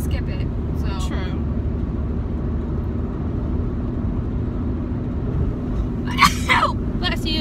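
One person sneezes sharply near the end, a short burst rising above a steady low rumble that fills the whole stretch.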